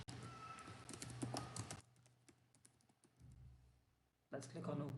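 Computer keyboard typing while a resource group name is entered: quick, irregular clicking keystrokes heard close, pausing in the middle and resuming, with a voice talking over parts of it.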